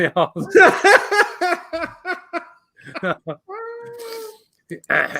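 A cat meows loudly and close by, giving a long drawn-out cry after a stretch of chattering, laughing human voices, with more voices returning at the end.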